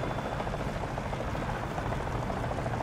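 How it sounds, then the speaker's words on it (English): A helicopter in the War Thunder video game thrums with a steady, continuous rotor and engine roar, filling the short stretch alone with no talking. "No, we've got two helicopters."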